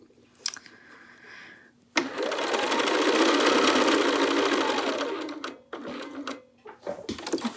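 Close sewing machine stitching a garment seam, starting abruptly after quiet fabric handling and running a steady, bright mechanical hum for roughly three and a half seconds before stopping into scattered taps and rustles.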